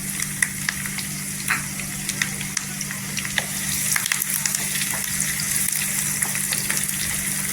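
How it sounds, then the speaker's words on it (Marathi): Two or three onions fry in oil in a pan until golden, a steady, close, bubbling sizzle with sharp crackles and pops throughout and no talk. "कांदा पूर्णपणे तेलावर गोल्डन करून घ्यायचा"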